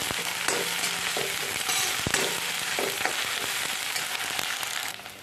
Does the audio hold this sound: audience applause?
no